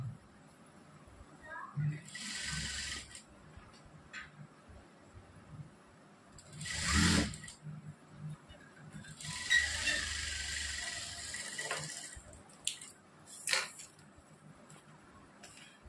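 A sewing machine stitches along a fabric strip for a salwar, its whirring, rattling needle runs coming in several bursts of a second or more, with quieter handling sounds between and someone speaking at times.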